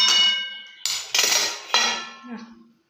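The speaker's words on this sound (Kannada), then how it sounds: "ಪಾತ್ರೆ ಮುಚ್ಕೊತೀನಿ" Metal vessels clang and ring as one is set down as a lid over a pan of okra stir-fry, a few sharp clanks with lingering metallic resonance, close and loud.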